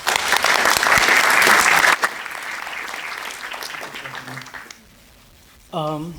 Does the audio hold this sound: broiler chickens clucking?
no